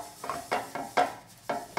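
Egg white hitting a hot pan with a single drop of oil, heard as a run of short, close sizzling bursts with scraping or stirring touches between them. No one speaks.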